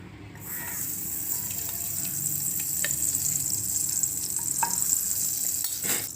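Ghee sizzling steadily in a pan while preparing paramannam, a sweet rice offering, with a continuous hiss and a few light stirring clinks, no talking.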